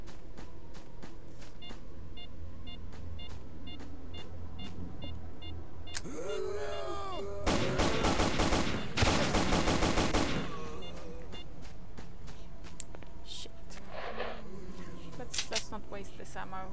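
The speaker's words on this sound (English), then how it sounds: "Maybe we can hunt a Chimera with a launcher grenade." Grenade launcher rounds fired at a Chimera in the game Lost Alpha, a burst of loud blasts and gunfire in the middle, then smaller bangs and a short whine near the end, over a game hum with faint talk.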